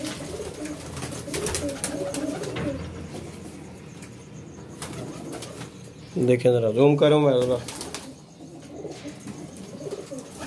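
Several seasoned pigeons in a fancier's loft coo in a loud, close run of rolling, throaty calls that swell midway, while someone talks over the birds before and after.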